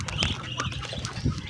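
Ducks raised on a small backyard farm give short, close quacking calls in a quick, uneven run, with a slightly louder burst near the end.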